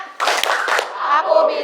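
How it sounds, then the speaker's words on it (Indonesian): A classroom of children claps a short spirit clapping routine, tepuk semangat, in a quick burst of rhythmic hand claps followed by a brief pause and softer clapping, close and fairly loud. "Tepuk semangat."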